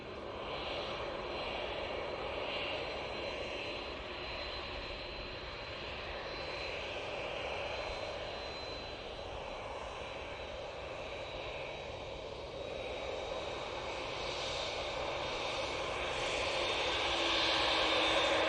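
Jet airliner taking off at Manchester Airport, a steady distant roar with a faint whine that slowly grows louder toward the end, heard alone without talk.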